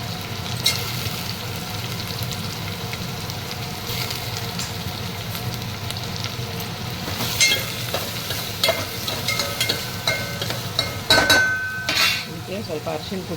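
One large finely chopped onion fries in a pan for Gujarati dal dhokli, a constant sizzle joined by utensil clinks and scraping stirs that grow busier and louder toward the end, with no clear talking.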